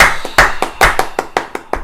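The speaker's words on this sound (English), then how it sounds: "Can we have a round of applause for Jason" A small quiz-show audience applauds the winner, a handful of sharp, close hand claps in a quick, fairly even rhythm that continue throughout the short stretch with no talking.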